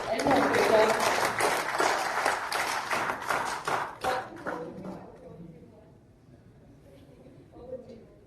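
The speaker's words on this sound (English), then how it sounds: "I want each one of you to give a bigger round of applause for our panel and moderator." A live panel audience at a Coimbatore real estate event claps loudly for the panelists and moderator, the applause holding strong for several seconds before thinning into scattered claps and quieter room noise.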